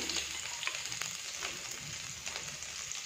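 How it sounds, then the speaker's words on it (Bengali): Chopped garlic and chilli fry in oil in a wok, a close, steady crackling sizzle broken by a few sharp spattering pops. "রসুন কুচো আর দিয়ে দেবো এখানে লঙ্কা কুচো। একটু এটা ফ্রাই করে নেব"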